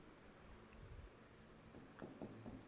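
Chalk or pen scratches on a board during a Class 9 maths lesson on polynomials, a few faint short strokes and taps in a quiet room.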